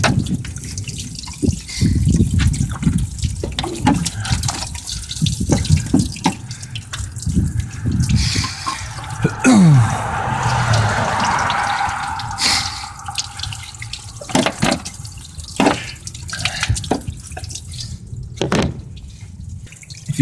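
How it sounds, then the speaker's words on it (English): Water is forced through the heater core of a 1993 Toyota Tercel and trickles out, a loud, close, continuous splashing and dribbling with irregular drips running the whole time and no voices. "I'm putting water in some force and it's barely trickling out"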